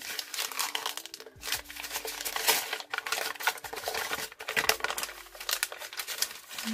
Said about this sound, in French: je vais carrément froisser le calque de cette façon